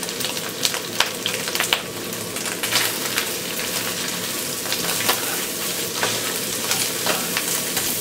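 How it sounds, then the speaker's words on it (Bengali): Shredded meat with haleem ready-mix spice fries in a pan. A continuous sizzle is broken by repeated scraping stirs and clatters from a spatula, close and fairly loud, with no talk. "শ্রেডেড মাংসটাকে হালকা একটু ফ্রাই মতো করে নিলাম।"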